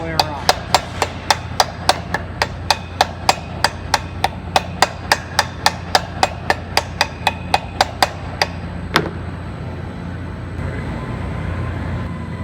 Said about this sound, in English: As you're tightening, I like to hammer around in all 4 places on the casing